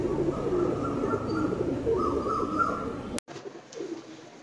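Pigeons kept as flying birds coo and chirp steadily up close, in a dense layered chorus that cuts off suddenly near the end, leaving fainter calls.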